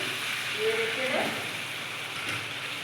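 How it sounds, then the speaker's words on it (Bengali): Water with whole garam masala in a pot coming to the boil for chicken biryani, a steady soft sizzling hiss throughout with a faint stirring scrape partway through. "জলটাকে ফুটতে দেব।"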